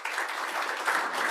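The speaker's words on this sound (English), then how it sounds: "I was waiting for the applause." Audience applause at a business showcase session, a steady wash of many hands clapping at moderate volume throughout, with no talk over it.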